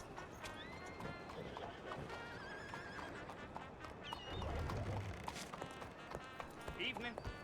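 In a video game, a horse whinnies and its hooves clip-clop in a steady running rhythm, close and moderately loud, with brief voices and other game sounds around it.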